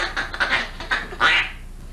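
A duck quacks in a quick series of harsh, nasal calls, four or five bursts close by with the last one loudest, and no talking over them.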